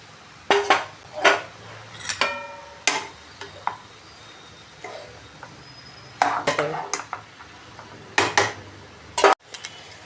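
Fried okra (ladies finger) goes back into a pan with turmeric and is stirred, bringing repeated metal scrapes and clanks in uneven bursts over a soft background sizzle.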